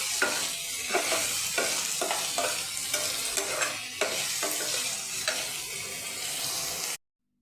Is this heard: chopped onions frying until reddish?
yes